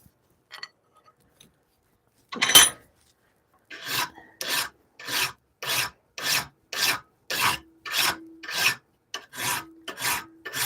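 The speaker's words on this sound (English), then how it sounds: "I am going to put this in the vise and get to filing." A hand-forged Bowie knife, made from an antique file, is hand filed while clamped in a vise. After a few stray clanks, a steady run of about a dozen rhythmic rasping strokes follows, each loud and close with short gaps between them.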